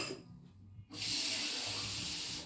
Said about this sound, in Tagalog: Lagyan ko siya ng 1 basong tubig.